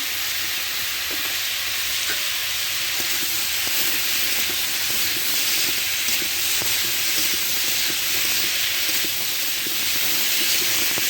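Bitter gourd and fish being stirred in a frying pan, a steady loud sizzle and hiss of hot oil with faint scraping of the utensil throughout.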